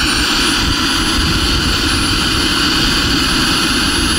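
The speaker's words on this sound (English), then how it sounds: "It's got a 45 turbine in it." A small 45-size jet turbine on a radio-controlled model turbine glider runs at a steady, loud, close roar with a high whine throughout, no pauses or voices.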